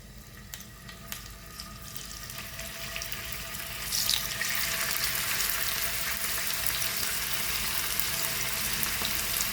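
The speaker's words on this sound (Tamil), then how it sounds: "இப்போ கோழியை போட்டு பொரிப்போம்." Chicken drops into hot sunflower oil and a broad, steady frying hiss swells up partway through, then stays loud and continuous to the end with no voices.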